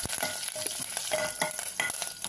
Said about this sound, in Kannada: ಈಗ ಒಣಮೆಣಸಿನ್ಕಾಯಿನ ಹಾಕೋತಾ ಇದ್ದೀನಿ ಹಾಗೆ ಕರ್ಬೇವಿನ ಸೊಪ್ಪನ್ನು ಹಾಕ್ಕೊಂಡು ಒಂದೆರಡು ಸೆಕೆಂಡ್ ಇದನ್ನು ಬಾಡಿಸ್ಕೊಳ್ಳೋಣ